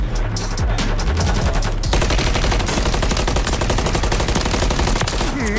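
Loud, sustained automatic gunfire from the video game Call of Duty: Modern Warfare 3, played at a launch event, with rapid continuous bursts and heavy low booms near the start.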